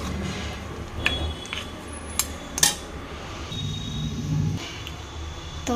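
Cooked mutton sukha masala served onto a plate: sparse metal-spoon clinks and scrapes against dishware, a few sharp taps, faint background hum and no talk.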